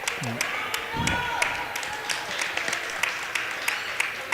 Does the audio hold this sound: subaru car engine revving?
no